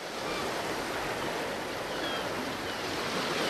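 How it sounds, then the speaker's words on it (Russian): Sea surf effect played by a steam fireplace: a steady, soft wash of broadband water noise like rolling waves, constant and unbroken throughout. "Когда мы включаем шум моря"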